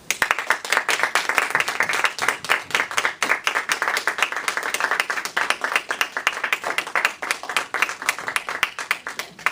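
A meeting audience applauds: a dense, steady burst of many hands clapping at moderate distance, sustained for around nine seconds before easing off.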